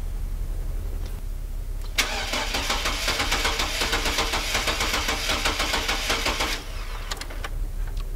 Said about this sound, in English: First, I'm going to start with a cranking test.